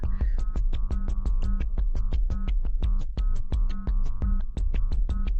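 A retrofitted, simplified 3D printer runs steadily, its motors producing a rapid, regular train of loud pulses and clicks over a continuous low hum, close and alone for several seconds.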